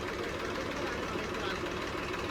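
An engine idles with a steady, rough low rumble throughout, continuous and fairly close.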